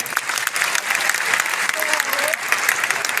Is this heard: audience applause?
yes